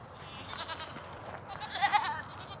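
Goats bleat in a farm setting, with several overlapping calls rising over a steady outdoor background at moderate distance, slightly louder toward the end.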